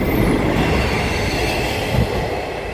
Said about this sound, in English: Here's the train, bloody hell.